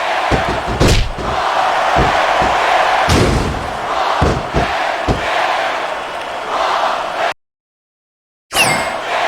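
Arena crowd in WWE SmackDown! vs. Raw 2006 cheering and roaring beneath repeated heavy slams and thuds from the ring, broken by a moment of silence before the noise returns.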